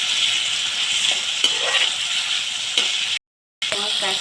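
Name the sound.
stirring and frying turmeric in oil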